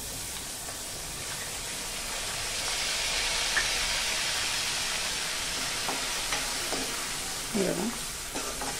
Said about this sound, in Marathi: थोडीशी डाळ फोडणीमध्ये घालायची